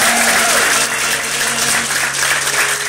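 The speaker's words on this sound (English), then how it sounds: "give her a nice round of applause here" Wedding guests break into loud, sustained applause for the bride during the father-daughter dance, a thick, close roar of clapping with faint tones of music beneath.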